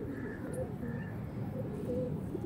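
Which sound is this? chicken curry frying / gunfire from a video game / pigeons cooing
pigeons cooing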